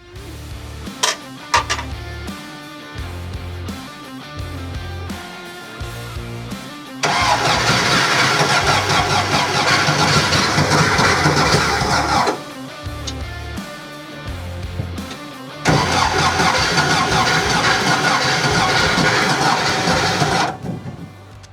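A VW-powered sand rail engine cranks with rhythmic starter chugs, then catches and roars loudly at high revs for several seconds, drops back, cranks again and revs hard once more, all close to the microphone.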